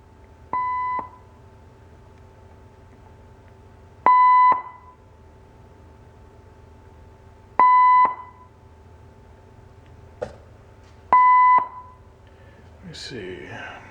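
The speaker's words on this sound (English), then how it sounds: "have a burst tone in here" A burst tone test signal plays through a Magnavox 1SC603 amplifier: four evenly spaced, half-second steady beeps about three seconds apart over a low, quiet hum, with a short click between them and a voice at the end.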